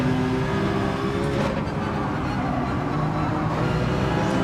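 Steady loud drone of a Citroen race car engine in Gran Turismo 7 on Trial Mountain, holding a constant high-revving tone without a break across the whole stretch.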